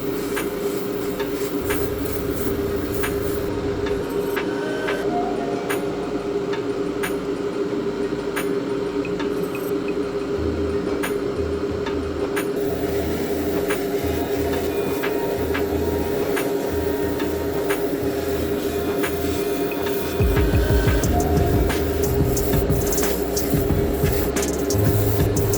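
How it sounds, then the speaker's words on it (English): An airbrush laying light coats of Tamiya TS21 Gold paint onto a diecast model car, a steady hiss with an underlying hum, a few clicks and a louder stretch toward the end. "we fired up the airbrush with Tamiya TS21 Gold, which only required a couple of light coats"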